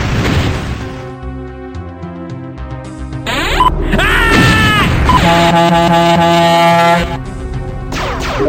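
A loud, deep foghorn-like horn blares in the Loadstar video game, sounding as a long sustained blast over dense game music and effects.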